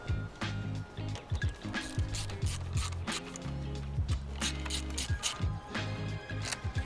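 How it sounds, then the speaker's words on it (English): A ratchet fitted with a 7mm socket tightens hose clamps on turbo inlet pipes of an Audi C8 RS6/RS7, giving quick bursts of close, crisp clicking with brief pauses between strokes. "Now we're going to use a 7mm socket to tighten the hose clamps."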